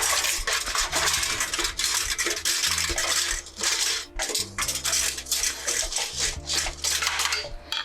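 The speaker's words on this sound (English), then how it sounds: "I'm going to loosen them with that wooden spoon" A wooden spoon scrapes and taps inside a toaster to loosen stuck crumbs, making busy, close rattling and scratching with uneven bursts and brief pauses.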